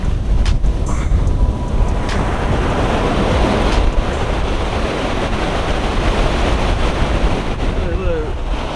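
Strong wind buffets the microphone at a beach while surf rolls in steadily beneath it, a loud, continuous roar with no clear break throughout.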